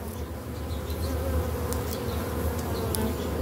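Honeybees buzzing around an opened hive during a queen check, a dense, steady swarm drone holding at an even level throughout with no voices over it.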